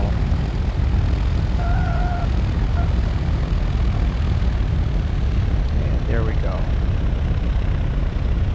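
Zodiac 601 light aircraft with a propeller engine throttling down during landing, a steady loud cabin drone and wind roar that fills the clip, with a voice speaking over it.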